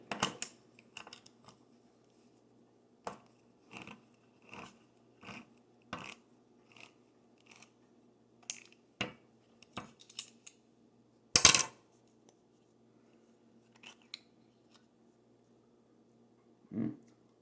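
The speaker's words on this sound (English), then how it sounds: "you're gonna need your Hunt sauce, and you're gonna need a can opener to open it" A hand-cranked can opener biting into a can of Hunt's sauce in a home kitchen, giving short clicking, ratcheting bursts spaced through the stretch, with one sharper, louder clack partway through and long quiet gaps between.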